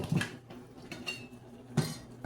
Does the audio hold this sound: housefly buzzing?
no